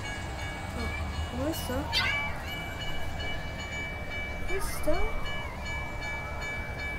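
A train rolls past with a sustained, steady horn-like tone and a low rumble at moderate loudness, while a person talks over it and some squeaky cartoonish sounds pop in briefly.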